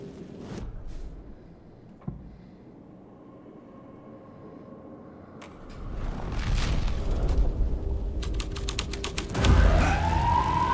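A police car siren wails from the Alan Wake 2 game world, rising loud over a low rumbling bed in the second half and swelling toward the end.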